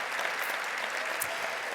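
An audience at a social work conference claps for a master of ceremonies, dense steady applause filling the room for a couple of seconds.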